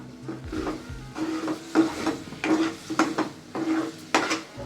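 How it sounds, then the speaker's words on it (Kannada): Shredded cabbage tipped into a pan for an egg bhurji stir fry and stirred, loud close scraping strokes and rustling with a soft sizzle, in rhythmic bursts and no talking. "ಈಗ ಎಲೆಕೋಸು ಹಾಕ್ತಾ ಇದ್ದೀನಿ. ನಿಧಾನಕ್ಕೆ ತಿರುಗಿಸ್ಕೊಳ್ಳಿ"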